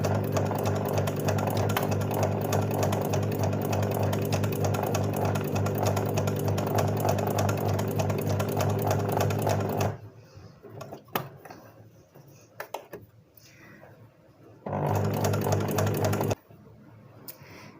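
A domestic sewing machine stitching embroidered lines on fabric, running in a steady loud whir for about ten seconds, then short stop-start bursts and one more sustained run before cutting off.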